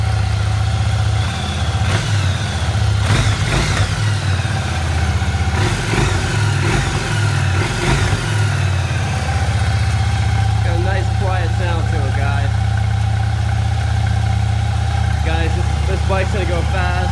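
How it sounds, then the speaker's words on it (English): A 2001 Yamaha V Star 1100 motorcycle engine runs close and loud, with a steady low idle and a few quick revs early on before it settles back to idling, while someone talks over it. "Let's rev it up a little bit."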